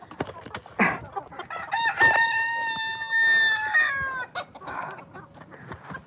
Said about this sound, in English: There's a pile of chickens in here.